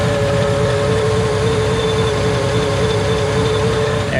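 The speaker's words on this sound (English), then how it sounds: "see all the coolant sloshing around. Pump's working really good." Electric heat exchanger pump on a 2010 Ford Shelby GT500 runs steadily with a constant whirring hum and a faint tonal whine, coolant churning in its container beneath, loud and close without a break.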